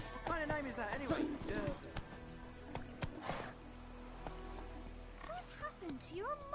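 A horse in The Witcher 3: Wild Hunt, with hoofbeats and a whinny under close-up dialogue as the rider urges it on.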